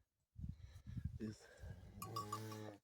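Goats and lambs grazing on a Carpathian mountain pasture, with a short bleat rising near the end over close, steady talking.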